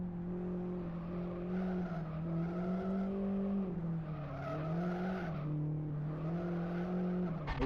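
A Saab 9-3 Viggen road-car mod driven in the Live For Speed racing game, its engine droning steadily with rising and falling revs and faint tire noise, continuous and fairly quiet.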